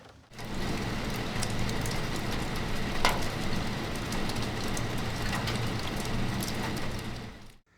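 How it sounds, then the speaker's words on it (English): Steady rain patters in a continuous hiss with no voices, a few sharper drops standing out now and then. "the rain is here"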